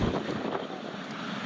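An aircraft on final approach at Newcastle Airport, a brief steady broadband engine roar heard from a distance, mixed with wind buffeting the microphone.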